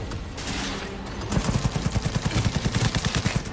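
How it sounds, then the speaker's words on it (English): Smart-bullet gunfire in the Cyberpunk 2077 video game: a dense burst of rapid, evenly spaced shots over a loud roaring game background, close and steady for a couple of seconds. "Smart bullets, hit him in the face."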